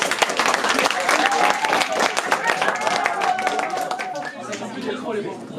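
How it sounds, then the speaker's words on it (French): Audience applause at a school slam poetry workshop for third-year students, a dense burst of clapping that fades toward the end, with voices mixed in. "Applaudissez, s'il vous plaît."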